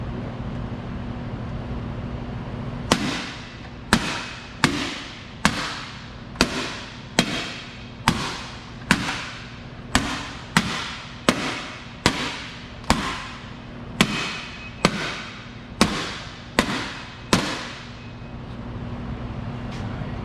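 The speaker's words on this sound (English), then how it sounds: "I'm going to strike it against a medieval helmet to see how it holds up." About twenty sharp metallic strikes of a German-style Messer sword against a medieval steel helmet, evenly spaced roughly one per second, each loud impact ringing briefly over a low background hum.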